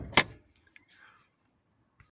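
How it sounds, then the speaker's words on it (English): A Nissan Note bonnet release lever gives one sharp, close clunk at the start, followed by faint small clicks and near silence. "You should hear a big clunk."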